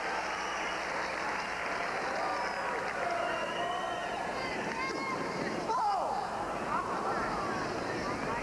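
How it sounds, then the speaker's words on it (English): A tennis crowd at the 1997 US Open applauds steadily after a point in a second-round match between Jeff Salzenstein and Michael Chang, with a commentator talking over the sustained clapping. "And well-deserved applause."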